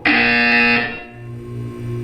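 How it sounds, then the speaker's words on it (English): A loud electronic buzzer from the Portal 2 video game sounds alone, a steady harsh tone for under a second before a lower hum takes over. "When you hear the buzzer, look down at the floor"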